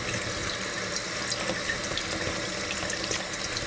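Tap water runs steadily into a glass fermentation carboy for rinsing, a loud continuous close splashing gush with no one talking.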